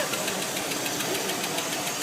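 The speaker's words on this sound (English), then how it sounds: "That is an epic engine, mate." Dave's XA Bird car engine running on its first start since 1988, a steady, even rumble with a faint knocking texture, close and continuous, with no talk.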